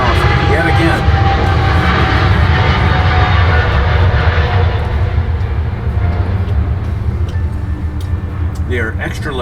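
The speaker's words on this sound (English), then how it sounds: "And our airplane taking off yet again." A nearby fixed-wing airplane takes off, its loud engine roar sustained and fairly steady, swelling slightly then easing, with faint talking underneath.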